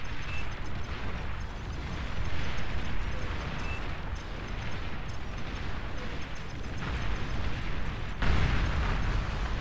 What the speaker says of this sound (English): This fucking frontline bombing run is very annoying.